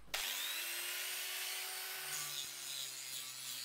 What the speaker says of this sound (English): I'll do a pass over the whole surface with the angle grinder first